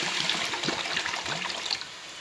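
Water is poured for a genipap liqueur syrup, a steady soft splashing trickle into a container, fairly quiet and continuous with no voices over it.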